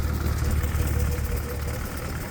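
Vintage tractor engines idle in steady, loud, low rumbling chugging with constant vibration, heard close and alone.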